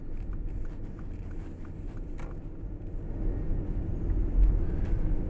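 A 2013 Mercedes-Benz ML350 SUV cruises along a road, giving a steady low engine and tire rumble from inside the cabin that swells slightly toward the end, with no talking.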